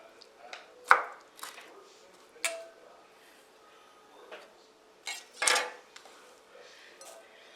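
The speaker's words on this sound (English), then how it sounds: "that's all the chopping we're going to do" A few scattered knife strikes and clinks on a cutting board while chopping ham for a quiche, close by, irregular and separated by quiet gaps.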